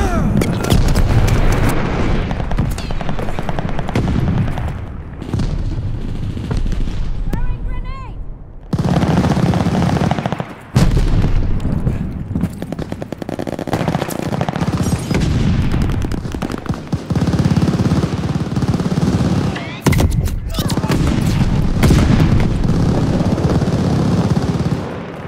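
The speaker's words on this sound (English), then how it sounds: "Friendly sending a glide bomb." Glide bomb airstrike explosions boom in Call of Duty Vanguard during a Team Deathmatch, mixed with dense machine gun fire and repeated heavy blasts over about twenty-five seconds, with brief quieter gaps between bursts.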